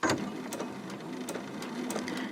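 A sewing machine stitches a small Christmas stocking around its curves, running steadily at slow speed with a whirring hum and rapid ticking of the needle, close up and with no talking.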